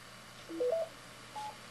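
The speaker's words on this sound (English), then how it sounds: "You hear that noise there? That's just me activating the repeater with my radio." Short DTMF-style keypad tones sent from a handheld ham radio to key up a local repeater in the Vancouver–Whistler area, two brief beeps in quick succession over faint background hiss.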